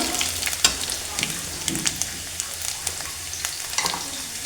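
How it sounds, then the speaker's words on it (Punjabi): Garlic and onion fry in a pan, browning to a golden red, with a close, crackling sizzle dotted by small pops and stirring scrapes, and no voices. "ਇਹਨਾਂ ਨੂੰ ਆਪਾਂ ਚੰਗੀ ਤਰ੍ਹਾਂ ਭੁੰਨ ਲਿਆ ਲਸਣ ਪਿਆਜ਼ ਦੇਖੋ ਲਾਲ ਹੋ ਗਿਆ"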